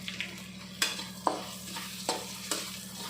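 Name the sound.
frying and stirring coconut for lemon rice in a pan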